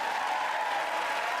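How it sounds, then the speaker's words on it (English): Applause follows the 2024 State of the Union speech, a steady, even wash of many hands clapping with no breaks. "Mike's clapping for that one"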